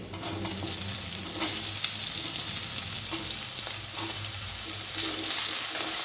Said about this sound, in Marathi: बटाटे चांगले फ्राय करून घ्यायचे आहेत 5 मिनिट